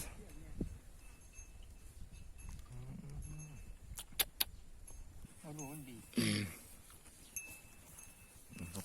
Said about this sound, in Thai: ปล่อยงัวมาเลี้ยงท่ามพ่อใหญ่บุญนะครับ